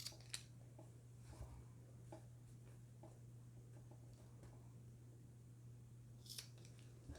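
Scissors snip through folded fabric while sewing a water-bottle sling, a few quiet, sparse cuts spaced over several seconds above a steady low hum.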